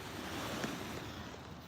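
Waves washing onto a shore at high tide on a night beach in Keyport, a steady broadband surf roar with some wind noise over the microphone, continuous and fairly close, with no talk.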